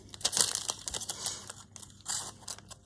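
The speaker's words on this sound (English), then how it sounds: "this is just a paper plastic bag." Paper or plastic bag crinkled and crushed up close during Christmas crafting, a run of crisp rustling bursts with short pauses, loudest near the start and again toward the end.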